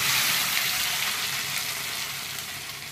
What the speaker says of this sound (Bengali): এবার আমি থোরটা দিয়ে দিচ্ছি